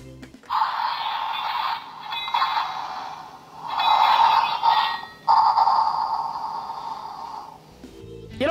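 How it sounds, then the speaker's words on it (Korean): A Mini Force Mega Fire Cop toy's electronic axe-swinging sound effect plays in a few bright, whooshing bursts, fairly loud and close, with short gaps between them. "이렇게 파이어 X를 휘두르는 것 같은 효과음이 흘러나왔고요."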